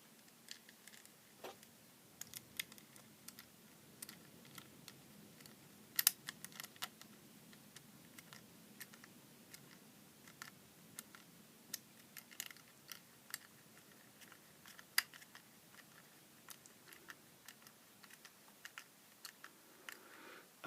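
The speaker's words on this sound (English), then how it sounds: "So I'll pop these screws back in." Small screws are driven back into the plastic housing of a cheap air freshener, giving a steady run of faint, close clicks and scratchy ticks with no talking.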